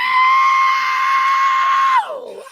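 A man vocally imitates a jet's screech, a strained whistle-like tone held steady and loud for about two seconds before sliding down in pitch and trailing off.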